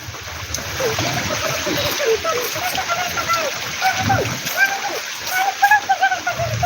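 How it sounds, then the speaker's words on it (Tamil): Rain falls in a village near Sirkazhi in Tamil Nadu's Mayiladuthurai district, a continuous splashing patter close by, with people talking over it throughout. "எங்கள் ஊரில் மழை வந்துருச்சு பார்த்தீங்களா"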